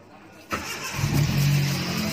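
A Proton Campro car engine with faulty valve lifters cranks and catches after a quiet moment, then settles into a steady, rough running rumble close by.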